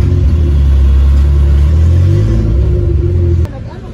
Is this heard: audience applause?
no